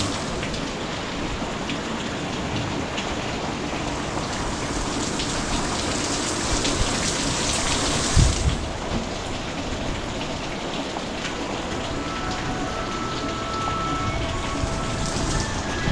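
Heavy rain pours steadily in Bukana, a dense, even hiss of drops hitting surfaces with no break, one brief low thump partway through, and no voices.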